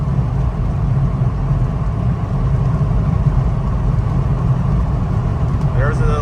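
A lifted 2005 Jeep Wrangler TJ Rubicon cruises at highway speed, giving a constant loud low road and engine roar inside the cab, with a brief squeak near the end.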